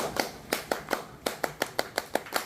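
A group performs scout-style rhythmic clapping (tepuk pramuka), a patterned sequence of sharp, evenly spaced hand claps, close and clear with no talking.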